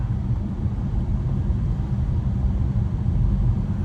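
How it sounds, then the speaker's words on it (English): A 2026 BMW 530i four-cylinder engine drones with a low, steady rumble as the car accelerates, fairly loud and continuous throughout. "just a little bit of a noise when you accelerate. It is a 4-cylinder engine."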